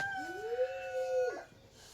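A single dog howl, rising and then holding a steady wavering tone before breaking off, moderately close in a quiet outdoor setting.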